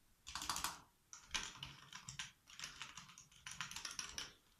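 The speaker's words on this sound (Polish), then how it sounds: "Spacja dość głośna." Typing on a Tracer Mecano Game Zone hybrid keyboard, neither fully membrane nor mechanical, with fast-rebounding keys and a fairly loud spacebar: close, crisp bursts of clicking keystrokes in quick clusters, with no talking.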